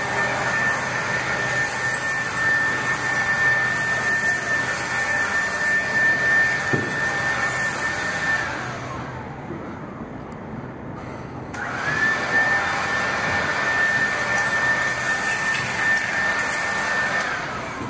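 A Craftsman leaf blower runs steadily and loud with a whining tonal hiss, dropping briefly near the middle before roaring back to full power and holding to the end; no talking.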